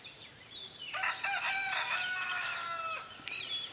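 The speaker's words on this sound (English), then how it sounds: "Well, that old rooster crowing," A rooster crows once, a long rising and falling call heard from a distance over steady background noise.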